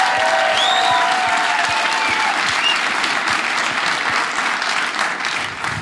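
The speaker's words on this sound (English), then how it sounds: "Y'all clap for that guy." Audience at a stand-up comedy show applauding a military member in the crowd, loud sustained clapping with a few whistles early on, fading slightly toward the end.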